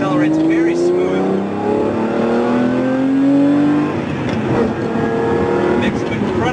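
Lamborghini Murcielago engine revving up through the gears, pitch rising steadily with a loud throaty roar, with a voice talking over it.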